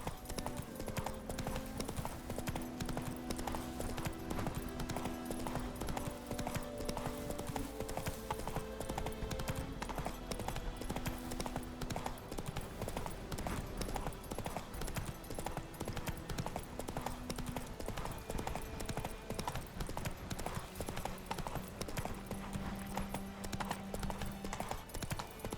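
Roach the horse galloping in The Witcher 3, a steady rapid clip-clop of hooves in a regular rhythm throughout, with game music underneath.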